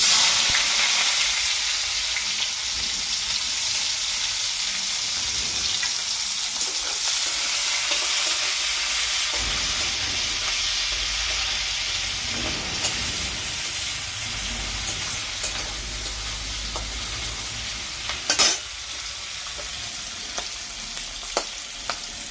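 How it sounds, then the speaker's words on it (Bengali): Onion frying in hot oil with dried red chili and cumin seeds, a steady close sizzle with occasional stirring scrapes and a few sharp crackles and pops. "শুকনো লঙ্কা সম্বরা দিচ্ছি একটু জিরা দিয়ে দিলাম পেঁয়াজ"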